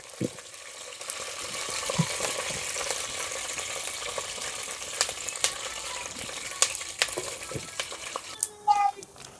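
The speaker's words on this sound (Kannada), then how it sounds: "ಲೈಟಾಗಿ ಫ್ರೈ ಮಾಡ್ಕೊತೀನಿ." Food lightly frying in a pan on a home stove, with a steady soft sizzle and scattered clinks and stirring noises throughout, growing busier near the end.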